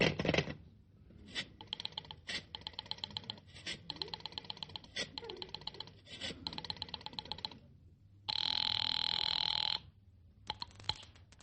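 A telephone is dialed in an old-time Jack Benny radio comedy: rapid runs of rotary-dial clicks repeat in bursts, broken by a steady held telephone tone before more clicking resumes.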